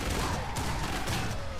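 Rapid gunfire from Killing Floor 2, a dense unbroken burst of shots with strong recoil filling the short stretch, loud and close.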